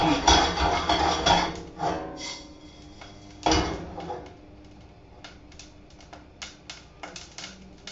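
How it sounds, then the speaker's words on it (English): Coffee beans roasting in a pot make sharp, scattered cracks and pops along with a louder rattling stir early on, then a run of irregular snapping clicks, close and without talking. "Hear the crack? You can hear them cracking."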